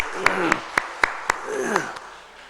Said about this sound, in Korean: 박수를 좀 만들어주시면 좋겠습니다